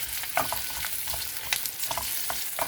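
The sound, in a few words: garlic and green chili frying in a pan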